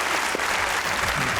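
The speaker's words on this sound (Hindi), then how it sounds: "तालियां होनी चाहिए।" A studio audience at a Pakistani comedy talk show claps steadily, a dense even burst of applause filling the room from start to finish with no talk over it.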